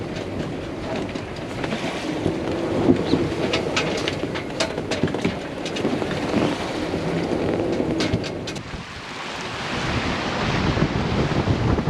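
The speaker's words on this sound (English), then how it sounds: "we have the waves behind us and the wind behind us" Ocean waves washing past a sailing boat running downwind with waves and wind astern, a continuous rushing surge with wind buffeting the microphone, loud and steady throughout.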